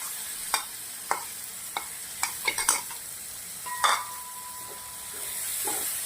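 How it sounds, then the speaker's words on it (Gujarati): Yogurt and spice paste stirred into taro curry frying in a pan, with a steady soft sizzle and several sharp spoon scrapes and clinks against the pot, moderately close with no talking. "હવે આપણે અંદર દહીં અને જે મસાલા કર્યા હતા દહીંના અંદર એ નાખી દઈશું"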